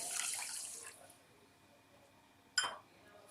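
Water poured from a cup into sugar to make syrup, a short splashing pour near the start that fades, followed by one sharp clink or splash close by.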